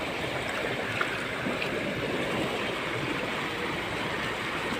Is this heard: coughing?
no